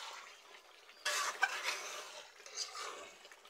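Duck meat being stirred and fried in a pan, scraping and sizzling that starts abruptly and continues with soft clinks of a spoon, close and moderately quiet without talking.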